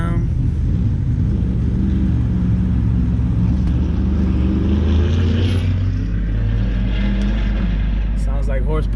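Loud, deep engine rumble from cars at Atco Dragway, with a Jeep Trackhawk present, droning continuously up close while people talk over it throughout.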